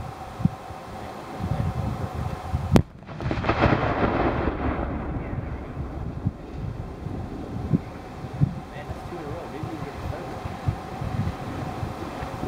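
A 155mm white phosphorus artillery projectile goes off in a controlled disposal as a single sharp distant crack, followed by a long rumbling roll that fades under steady wind noise, with faint voices in the background.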